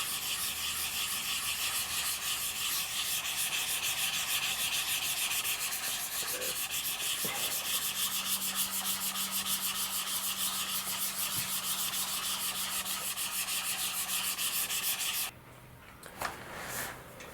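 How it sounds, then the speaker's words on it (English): A glider seam on a vintage Bob Martin SR-7 RC slope glider is sanded with 400 grit sandpaper in a fast, continuous rasping scrub close up, with a brief pause and a few light knocks at the end. "I'm just going to continue hitting this with some 400 and then working my way up the grits of sandpaper"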